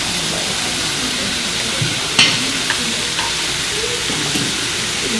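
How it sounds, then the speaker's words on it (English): Vegetables stir fry in a hot pan with a steady loud sizzle and hiss, occasional clinks and scrapes of stirring breaking through the constant frying noise, with no talking. "It's going to help continue by way of stir frying and steaming the vegetables"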